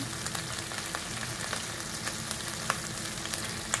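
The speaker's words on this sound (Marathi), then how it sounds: "यात लसूण पेस्ट आणि आता मसाला टाकू." Garlic paste and masala frying in a hot pan, a steady close sizzle with faint crackles and occasional light taps, no voices.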